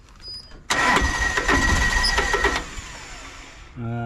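An old utility vehicle engine with a fuel delivery fault cranks and briefly catches with a loud, rough roar for a couple of seconds, then drops off; a short mechanical whir follows at the end.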